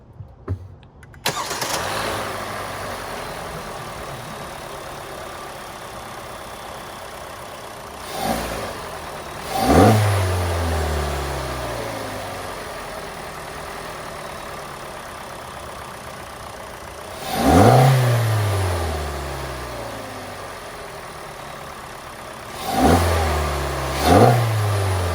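A 2019 Kia Forte with an AEM cold air intake cranks and starts, settles into a steady idle, then gives several sharp revs with an intake roar. The last two revs come in quick succession, all close and loud with no talk.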